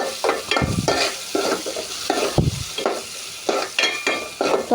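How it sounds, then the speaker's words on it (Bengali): Green beans with turmeric, spice powder and salt in a frying pan, stirred in quick repeated scraping strokes over a steady close sizzle, with no talking. "তো আমি নাড়াচাড়া করে নিব।"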